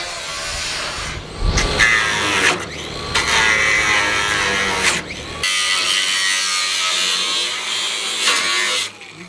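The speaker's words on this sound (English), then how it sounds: "You get me another cut-off wheel?" A cut-off wheel power tool grinds through metal during a car body build on a chassis, loud harsh whining in several bursts separated by brief pauses, close to the listener.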